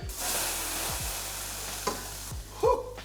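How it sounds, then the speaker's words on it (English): Noodles boil uncovered in a pot on the stove, a continuous close hiss of rolling bubbles with a few soft knocks and a brief clatter near the end. "Uncovered, boiling for 7 minutes."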